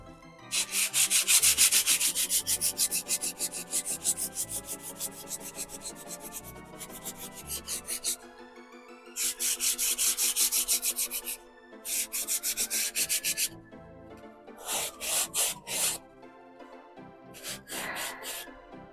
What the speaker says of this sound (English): I'm going to get out my 220 and I'm going to give that a final sanding